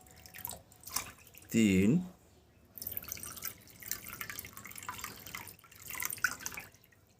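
Water poured from a bowl into a pot for homemade cough syrup, one short gurgling splash between spoken counting, with a person talking before and after.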